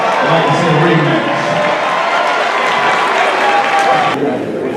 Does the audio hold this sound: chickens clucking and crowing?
no